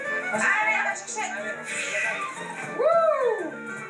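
Dogs, among them an Irish water spaniel, racing at a televised animal show, with whimpering, yipping and a rising howl-like whine near the end, heard over an excited crowd and lively voices.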